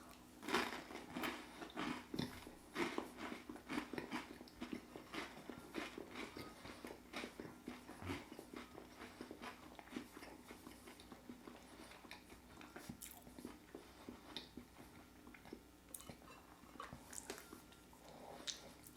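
Close, soft crunching and chewing of toast topped with Tunworth cheese and chili-dusted mango, with irregular bites and wet mastication continuing throughout at low volume.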